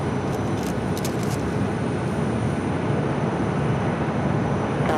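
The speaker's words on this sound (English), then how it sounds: "looks like that Delta 767 at number 2 for takeoff" Delta 767 at the airport, a continuous loud broadband jet rumble with no pauses and no speech.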